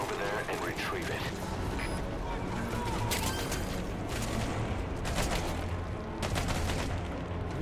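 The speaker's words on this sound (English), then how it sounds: "Who's shooting at me?" Bursts of gunfire in the video game Metal Gear Solid 5: The Phantom Pain, sharp shots and rattling volleys popping over an ambient game backdrop, with someone talking over the action.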